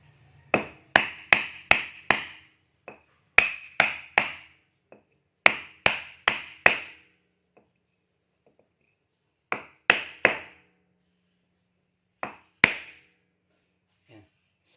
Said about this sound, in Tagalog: Tapos paluin mo ng martilyo dito.